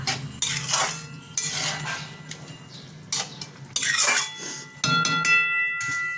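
Chicken keema with a ginger, garlic and green chilli paste is stirred in a pan: bursts of metallic scraping and clinking from a spoon against the pan, in uneven strokes, close and loud, with a soft sizzle between them.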